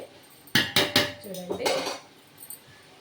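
Mutton pieces coated in spices are turned in a pan for biryani, with a few close, sharp metal clanks of a spoon against the pan followed by softer scraping.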